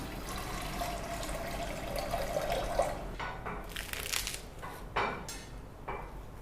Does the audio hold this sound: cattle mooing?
no